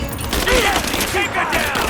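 Rapid gunfire crackles in a Rise of the Tomb Raider firefight, a burst of overlapping shots mixed with shouted voices from combatants.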